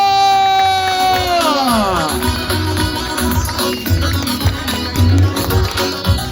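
A crowd at an event for the Araz collective in Ceyranbatan cheers and claps loudly while a gliding, descending musical tone fades out early. Energetic shouts and applause continue to the end.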